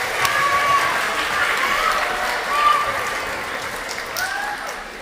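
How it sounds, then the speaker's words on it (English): A school audience at an end-of-year closing celebration applauds in a sustained, even patter, with voices rising over the clapping throughout. "Let's give her a big round of applause."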